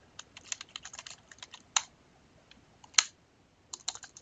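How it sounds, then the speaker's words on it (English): Typing on a computer keyboard during an Azure PowerShell session: irregular bursts of close, crisp key clicks with brief pauses between, fairly quiet and without talk. "I think we can type that."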